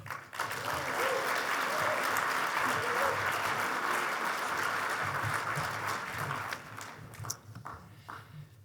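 An audience at the Kentucky Entrepreneur Hall of Fame awards ceremony breaks into loud, sustained applause to welcome a speaker, holding steady for several seconds before tapering off into scattered claps.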